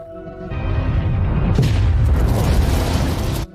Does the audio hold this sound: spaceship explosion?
yes